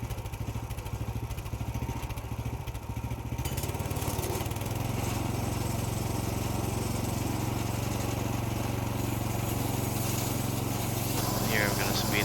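A sawmill cuts a log down toward a square cant of about 11 by 11 inches. The loud engine drone holds steady and thickens after a few seconds, then runs continuously near the listener.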